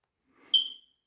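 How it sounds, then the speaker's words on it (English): A smoke alarm gives a single short, shrill beep, close and clear in an otherwise quiet room, preceded by a faint rustle. "It's gonna beep."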